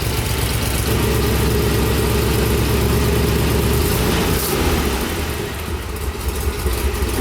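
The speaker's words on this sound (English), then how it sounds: "You might be hearing a little bit of an exhaust leak." Corvette engine idling with an exhaust leak at a joint in the exhaust pipe, a loud close rumbling idle with a rapid regular pulse that eases slightly near the end.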